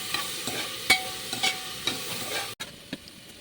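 Sliced onions sauté for egg curry in a pressure cooker, giving a steady close sizzle broken by several scraping stirs of a spoon and one brief pause near the end.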